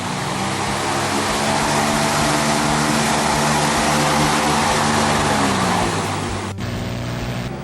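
An electric fan switched from low to its highest setting gives a loud, steady broadband whoosh of air with a low motor hum, holding for several seconds before the tone shifts abruptly near the end.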